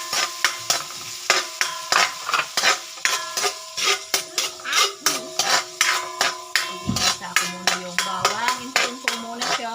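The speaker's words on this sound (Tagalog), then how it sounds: "una natin gagawin dyan, igigisa muna natin yung bawang" Garlic sautéing in a pan for Bicol Express, heard as a steady sizzle broken by repeated sharp scrapes and clinks of a utensil against the pan, close and fairly loud, with brief voices in the background.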